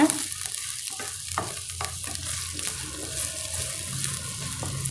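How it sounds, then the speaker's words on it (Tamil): Onion, tomato and vegetables sauté in a pan for chilli bread, a continuous close sizzle broken by repeated scraping stirs and clinks of a spoon against the pan, with no one talking. "எல்லாத்தையும் நல்லா வதக்கிக்கோங்க."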